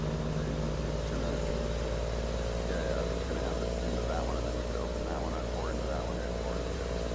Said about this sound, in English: Oh, there we got our low-flying aircraft.